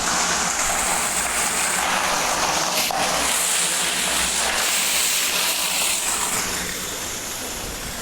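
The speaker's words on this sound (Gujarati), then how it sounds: "અહીંયાથી પાણી આવે છે." Water pours from a pipe into a tank in a steady, loud, close rushing hiss that continues without a break and eases slightly toward the end.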